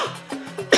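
A person with an itchy throat coughs a couple of times, short rough bursts close to the mic with brief voiced sounds between them, ending in a sharper final cough.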